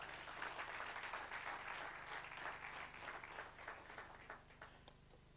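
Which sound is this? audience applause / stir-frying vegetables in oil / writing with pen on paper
audience applause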